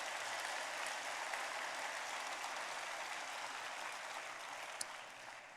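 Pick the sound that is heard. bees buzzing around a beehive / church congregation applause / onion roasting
church congregation applause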